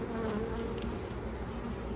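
Honeybees buzzing around an open, crowded hive during a split, a dense continuous hum close by with no voices.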